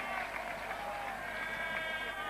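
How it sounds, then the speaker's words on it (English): Cricket crowd at a 1976 England v West Indies Test match roaring and applauding a boundary, a steady broad wash of cheering and clapping with commentary voices over it. "Great roar from the crowd, greeting that boundary from John Edridge"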